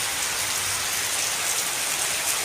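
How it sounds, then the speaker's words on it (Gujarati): Steady rain pours down on an open farm field just sown with groundnuts, a dense even hiss of drops on the soil running without break, with no voices. "વરસાદ આવી ગયો છે"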